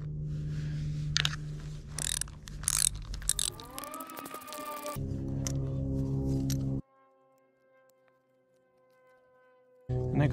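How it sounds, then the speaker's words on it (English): Hinge hardware is removed from an Argo ATV track with a ratcheting tool, giving rapid clicking and metallic rattles and scrapes followed by a long tonal squeal, then near silence before a final burst. "Now I want to take this hinge off."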